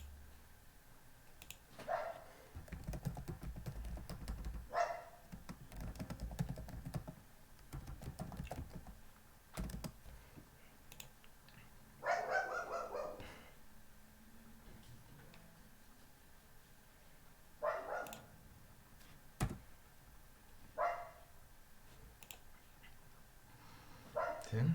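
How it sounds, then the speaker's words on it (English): Dogs bark in a home setting, short sharp yaps scattered every few seconds at moderate distance, with quiet tapping and room noise between them. "I guess you're gonna be hearing my dogs quite a lot today."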